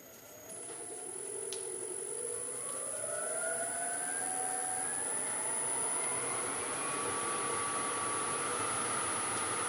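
A lathe spins up a large honey locust wood wok blank bolted down, its motor whine rising steadily in pitch over several seconds and then holding a loud, constant hum alongside a high steady tone.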